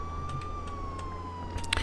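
Police siren in the Contraband Police video game, a steady wailing tone sustained throughout the short stretch, fairly loud, with no one talking over it.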